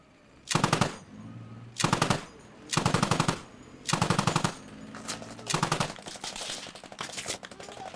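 A tank's machine gun fires in the video game Squad in about six loud, close bursts of rapid automatic fire, each lasting under a second, with short pauses between them.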